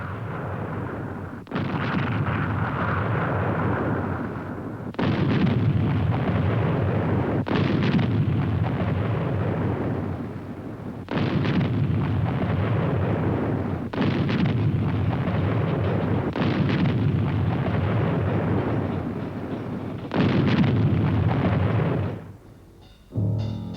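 German siege guns fire artillery at Leningrad during the Second World War: a run of heavy, roaring blasts, each ringing out for several seconds before the next, loud and continuous rumble with no voices.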